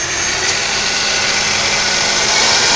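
Clausing Metosa engine lathe running in its high speed range, a steady loud mechanical whir with a dense hiss and no change in pitch, with no talking.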